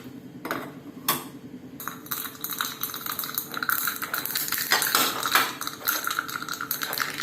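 Hot cooking oil splattering during tempering for a radish carrot sambar, with dense, crackling pops and sputters that rise after a few sharp clicks, loud and close and continuing throughout.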